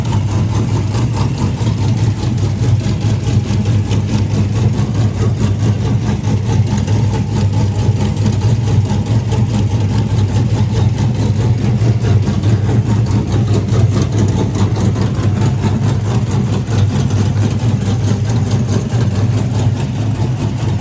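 A Chevrolet Camaro drag car's engine idles steadily while warming up with the car up on a jack, a loud, continuous low rumble that holds an even pace throughout with no talking.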